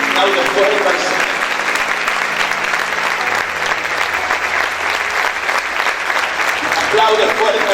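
A church congregation applauds loudly and steadily in praise, a dense wash of many hands clapping throughout, with voices and a faint musical tone mixed underneath.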